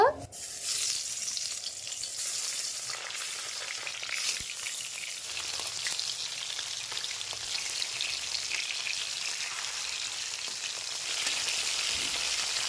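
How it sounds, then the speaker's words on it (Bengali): Tengra fish frying in hot mustard oil in a kadai, a loud dense sizzle starting abruptly and holding steady close up, swelling slightly near the end. "তেল খুব ভালোভাবে গরম করে নিয়েছি, মাছগুলিকে দিয়ে দেব।"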